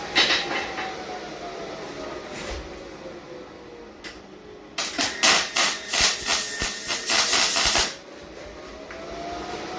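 Tack welds go onto the corners of a steel smudge pot: a tight cluster of sharp crackling pops and buzzes lasting about three seconds, close and fairly loud, over a steady background hum, with no talking.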